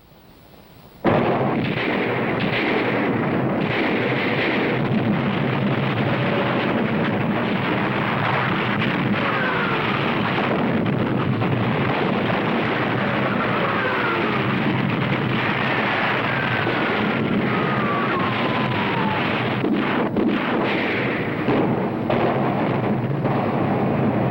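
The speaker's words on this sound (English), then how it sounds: "As planned, the British guns opened fire at exactly 9:40." A massive British artillery barrage at El Alamein in the North African desert: a continuous, loud roar of gunfire and booming blasts that holds steady for over twenty seconds after a sudden start.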